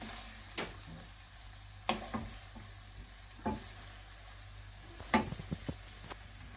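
Cockles frying in a pan with curry leaves, a steady soft sizzle broken by several sharp scraping strokes of a spoon as they are stirred.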